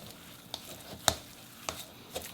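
Dumpling filling being mixed with tapioca starch, soft sticky squelches and taps coming every half second or so, close and quiet.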